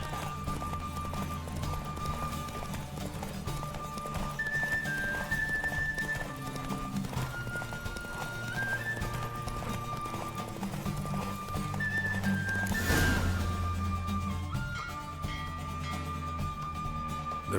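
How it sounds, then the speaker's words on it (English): Horse galloping in The Witcher 3 video game, a steady rapid clip-clop of hooves running throughout with an occasional whinny, heard alongside game music and ambience. "Don't spare the horse! I adore the speed, the rush of air."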